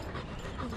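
A large young dog pants quickly and softly nearby, in short rhythmic breaths against faint outdoor background noise.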